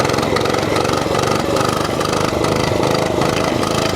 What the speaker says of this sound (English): It's gas and it's small, but it's my first gas bike that I've ever had